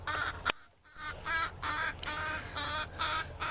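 Roosters, an old one and a young one, give a run of clucking calls in short bursts, fairly close and clear, with a sharp click near the start and a brief quiet gap before the calls resume.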